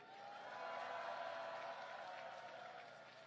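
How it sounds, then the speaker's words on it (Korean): Audience applause at a Korean political rally in Gangdong and Songpa, heard as a faint, distant, steady wash of clapping that swells and then eases over a few seconds. "우리 군 장병들에게 감사와 격려의 박수 부탁드립니다"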